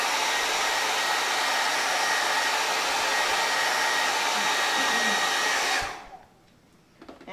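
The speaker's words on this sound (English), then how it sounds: "we'll hair dry it to help migrate it in" A hair dryer blows steadily and loudly on oil-treated pull-up leather, running as one continuous close whoosh before switching off near the end and leaving quiet.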